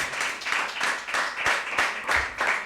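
A small group claps in a rhythmic, pulsing pattern at a school quiz competition, about seven or eight swells of clapping in quick succession, close and moderately loud.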